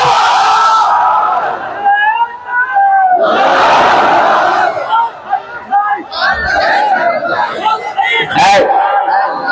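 Crowd at a Bangla religious sermon in Jashore shouting a takbir response, a loud massed roar of voices that swells in bursts around a speaking voice.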